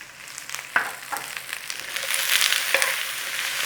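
Cabbage hits a hot pan with leftover corned beef and black pepper, building from light stirring taps into a loud, dense sizzle that swells toward the end.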